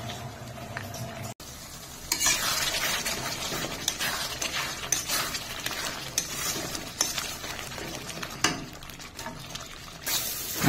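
Spices with Kashmiri chilli powder and tomato paste stir-fry in hot oil for a Bengali shol fish curry, giving a steady sizzle broken by repeated scraping and clinking of a spatula against the pan.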